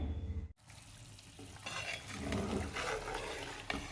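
Homemade ghee simmers in a pan, a faint soft sizzle and bubbling that starts after a brief cut and grows a little busier, with light crackles scattered through.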